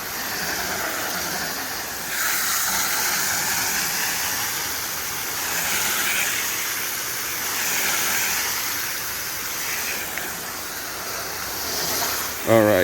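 Water rinses the unscrewed parts of a soap dispenser machine, a steady, fairly loud rushing hiss that swells and eases over several seconds before a brief clatter at the end.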